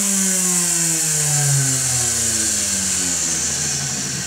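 A small taped electric motor spins at about 20,000 RPM, giving a loud, close, steady whine with shifting tones, alone and without talk.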